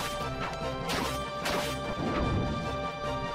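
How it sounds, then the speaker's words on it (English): Weapon strikes landing on monsters in Legend of Mana, a few heavy crashing thwacks over continuous game music, loud and close. "I really enjoy the sound it makes when you hit a monster"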